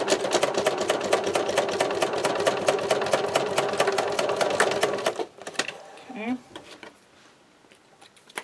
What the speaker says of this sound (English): we need to sew up the center like we did on the first side